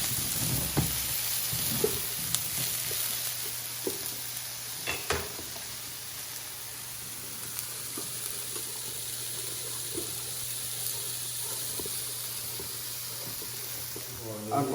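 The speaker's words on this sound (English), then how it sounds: "And I'm gonna throw my peppers in here. Fry it up a little bit." Peppers and scallions fry in a pan with a soft continuous sizzle, broken by scattered clicks and knocks of stirring and handling nearby.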